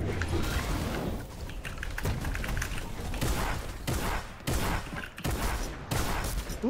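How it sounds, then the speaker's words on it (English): Gunfire in a multiplayer shooter video game comes as repeated bursts of rapid shots in clusters with short gaps, loud and close, with some game sounds in between. "He's shooting at me"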